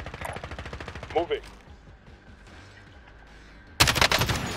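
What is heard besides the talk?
gunfire from the video game Call of Duty: Warzone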